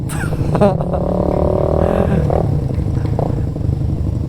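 Big-bike motorcycle engine revving nearby, a loud rising and falling mechanical snarl with a rough low rumble, mixed with voices talking and traffic noise around it.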